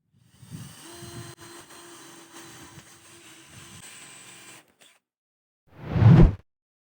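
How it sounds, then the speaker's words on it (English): A power drill bores holes through a plywood desk extension toward the steel frame beneath. It gives a steady, close whine for about four seconds, then stops. After a short silence comes one loud, brief burst. "We begin by drilling 2 holes that are exactly aligned to the steel frame below on one side."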